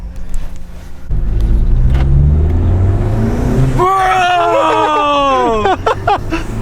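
Honda Civic Si turbo engine with a new PRL intake: the engine rumbles up and revs hard, its tone climbing in pitch, and then falls away, with voices and background chatter mixed in.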